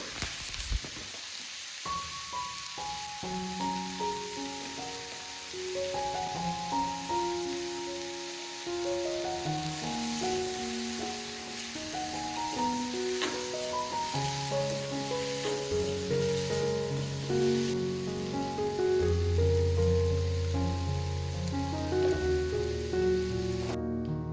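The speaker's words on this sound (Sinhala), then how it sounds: "කෑලි මිරිස් ටිකක් දාගෙන තුන පහ ටිකක් දාගෙන කහ ටිකක් ගම් මිරිස් ටිකක් දාගෙන ඔක හොඳට මේ තෙම්පරාදු වෙන්න දෙනවා" Chilli flakes, turmeric and spices tempering in hot oil give a steady, soft sizzling hiss throughout, running quietly beneath louder melodic background music.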